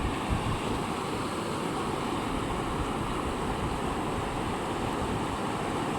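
Flood water rushes past farmland in Wiang Haeng, Chiang Mai, a steady broadband roar of flowing water mixed with wind noise on the microphone, with no talk.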